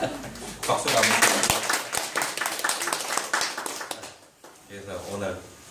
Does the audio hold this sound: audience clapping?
yes